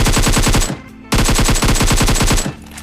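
Automatic gunfire in a mobile battle royale game, two loud rapid bursts of rhythmic shots close up, split by a brief gap, with no talk.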